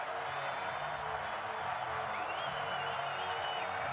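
A college football stadium crowd at a Chadron State game rises to its feet before kickoff, a steady distant roar of cheering and murmuring voices with scattered whistles, fairly faint and continuous throughout.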